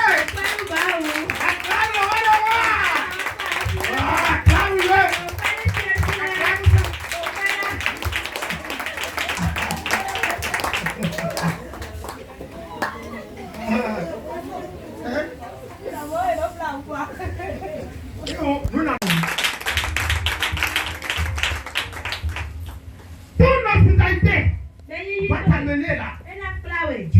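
Church congregation clapping and cheering in acclaim of Jesus at a worship service, with loud sustained applause and voices running over the whole passage, breaking off briefly and then returning in bursts near the end.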